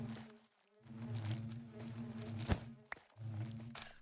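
In the Minecraft modpack FTB Evolution, a steady low buzz of bees carries on for several seconds, dropping out briefly twice and broken by a couple of sharp clicks, with no voices.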